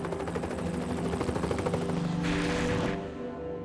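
Rescue helicopter airlifting injured hikers: a steady, rapid rotor thump with a whining engine tone, loud and sustained, then cutting off abruptly near the end.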